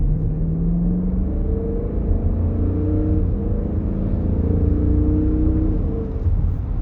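A 2016 Dodge Durango R/T fitted with 3.45 differentials pulls hard from a stop, its engine a loud, continuous low rumble rising in pitch through the gears, heard from inside the cabin.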